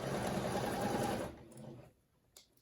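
A sewing machine stitches straight lines on scrappy granny-square quilt pieces, a dense steady whirring run for over a second that stops abruptly, leaving a quiet room with a small click near the end.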